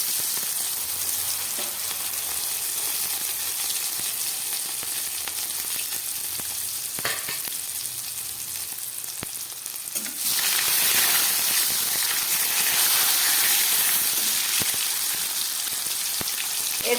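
Bay leaf, cumin seeds and two pieces of tomato fry in hot oil for a vegetarian Bengali curry, giving a steady close sizzle that swells sharply louder and brighter once the tomato hits the pan.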